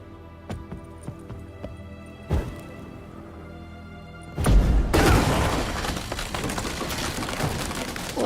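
A wooden door bursts into shards in The Witcher III: after a few faint knocks, a sudden loud crash with splintering debris that keeps crackling and scattering for several seconds.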